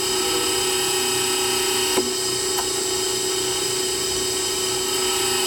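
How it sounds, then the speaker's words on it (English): A Myford Super 7 lathe drills a hole about 10 millimeters deep, the drill driven by the carriage feed, giving a steady, even mechanical hum with a couple of faint ticks and no talk. "drilling this hole to a depth of approximately 10 millimeters, and I'm using the carriage feed to drive the drill through"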